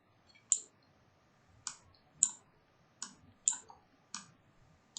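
Faint, crisp clicks from typing on a computer keyboard come in an irregular run of about eight keystrokes over a quiet background.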